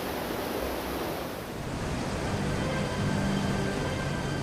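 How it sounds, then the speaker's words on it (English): Steady rushing water from a mill head race pouring into a wheelhouse to turn a large restored water wheel, a continuous broadband wash with no pauses or voices. "water from the head race flows into a wheelhouse, where it steadily turns the big water wheel."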